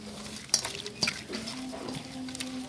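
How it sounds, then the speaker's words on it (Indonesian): Shrimp being stirred with lime juice and rice flour in a bowl, a few soft clinks of a utensil against the dish among quiet wet mixing sounds, close and faint. "lalu kita aduk-aduk"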